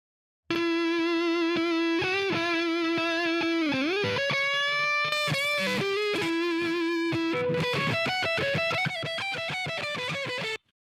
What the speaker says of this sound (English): I'm going to distort it even more by applying this distortion effect to it